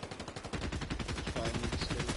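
Rapid gunfire crackles in Fortnite, a fast string of sharp shots in quick succession, fairly close and continuous.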